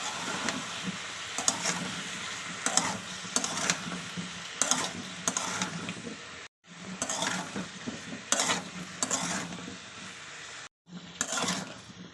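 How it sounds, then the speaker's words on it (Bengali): A salted turmeric spice mixture stir-fried in a pan: repeated scraping and clinking strokes of a spoon against metal in an uneven rhythm, with two brief pauses. "এবার এটাকে কিছুক্ষণ কষাতে হবে"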